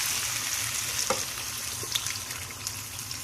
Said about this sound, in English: now we're going to drain this clam juice into this skillet here